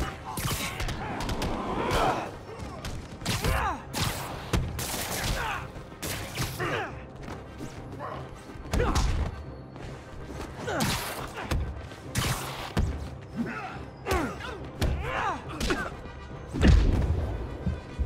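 Heavy punches, thuds and crashing hits land in rapid irregular bursts during a street fight in Marvel's Spider-Man Remastered, loud and close with whooshing swings between blows.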